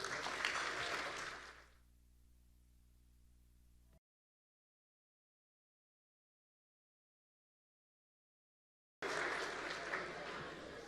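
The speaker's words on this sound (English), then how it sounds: "It's always good to have your husband here to start the clapping." Audience clapping at an awards dinner, a burst of applause that fades out, a gap of silence, then clapping resumes loudly for the last couple of seconds.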